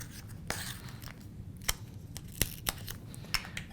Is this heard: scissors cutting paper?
yes